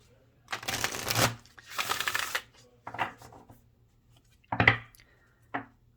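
Sacred Destiny Oracle cards are shuffled in several quick, papery bursts, close and fairly soft, with brief pauses between them.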